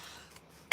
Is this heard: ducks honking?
no